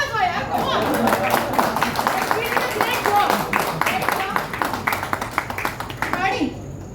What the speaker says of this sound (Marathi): प्लीज आमच्यासाठी टाळ्या वाजवा